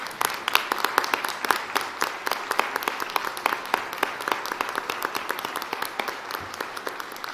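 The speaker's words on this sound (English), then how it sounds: "Let's give these people a round of applause." A congregation at a Sunday worship service applauds volunteers, with distinct, closely packed claps forming a lively, continuous round.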